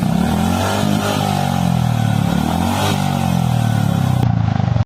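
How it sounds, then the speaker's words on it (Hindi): A Honda CB350 Highness motorcycle revs its stock exhaust close up, a loud, steady throaty engine note rising and falling through several blips over a few seconds, with no talking. "तो यार हाइनेस का जो एग्जॉस्ट साउंड है ना, वो इतना अच्छा है ना"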